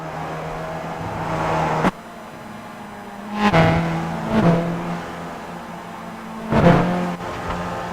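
Formula race car engine circling Lime Rock Park, a steady mid-distance drone broken by three swelling bursts of higher revving as the car passes, with a brief drop in sound near two seconds.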